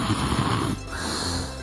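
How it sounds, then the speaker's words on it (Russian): An animatronic Lenin figure snoring, one drawn-out, rasping snore breath that fades into a softer exhale, close and fairly loud with no talk. "Ленин храпит."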